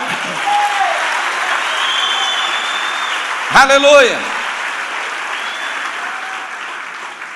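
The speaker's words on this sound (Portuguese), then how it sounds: "vamos aplaudir ao Senhor" A church congregation at a revival conference applauds, with steady, even clapping filling the space, and one voice briefly rings out over it midway before the clapping carries on.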